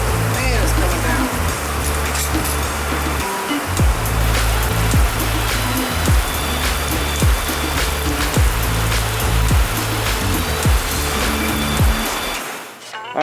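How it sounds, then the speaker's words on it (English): Heavy rain pours down steadily outside a workshop, a dense continuous hiss that holds for the whole stretch, with low thumps and knocks underneath before it cuts off at the end. "Rain coming down through here."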